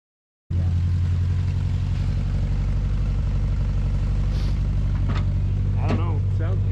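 An old car engine cranks and fires after a brief silence, then settles into a loud, steady, rumbling idle while people talk briefly over it.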